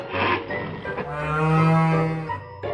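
A cartoon cow gives a loud, close, drawn-out moo with a rising tone, preceded by brief rustling noise.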